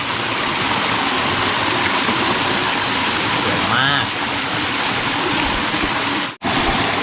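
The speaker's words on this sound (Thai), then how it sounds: "นี่นะครับน้ำตกข้างหน้า ข้างบนนั้นก็ยังเป็นน้ำตกอยู่นะครับ" A rainforest waterfall roars steadily and close, a dense unbroken wash of rushing water, while someone speaks briefly over it.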